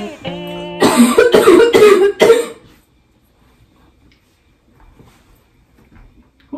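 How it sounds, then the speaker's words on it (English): A woman coughs several times in a quick, harsh burst after a short hum, followed by near silence. "I have to cough."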